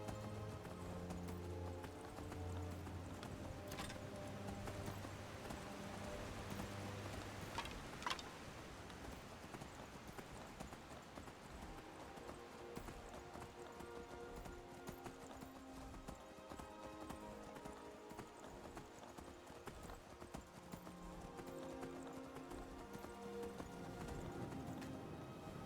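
Horse hooves clip-clop steadily in the video game Skyrim, a continuous rhythmic trotting under faint game ambience and music, fairly quiet throughout.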